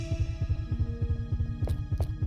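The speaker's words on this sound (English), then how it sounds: "That's a high heartbeat." Rapid, rhythmic heartbeat thumping in the horror game Illbleed, a fast steady pulse with a humming drone beneath and a couple of brief clicks near the end.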